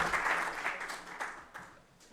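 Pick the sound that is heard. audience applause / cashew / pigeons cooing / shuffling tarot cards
audience applause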